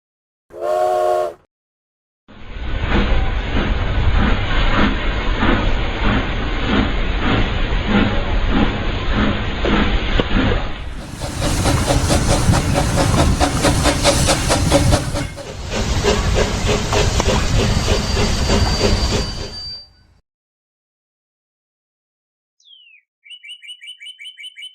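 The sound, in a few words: steam engine hissing and clanking, video game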